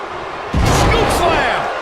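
A scoop slam in a wrestling video game, a quiet lead-in followed by a heavy booming body impact on the mat and a sustained roar of crowd noise.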